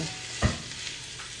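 Boiled rice being stirred in a sizzling pan gives a steady frying hiss with one soft scrape of the spoon, close and alone.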